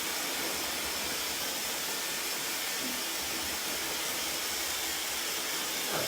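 A hair dryer fitted with a magnetic nozzle blows a steady, broadband rushing hiss at close range during a blonde haircut, holding constant for several seconds.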